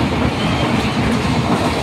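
A weekly passenger train rolls along at speed, heard from on board as a loud, steady rumble with rhythmic clattering of wheels over the rails.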